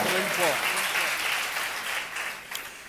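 A church congregation at a Sunday service claps steadily, a dense wash of applause that slowly fades, with a voice briefly heard at the start.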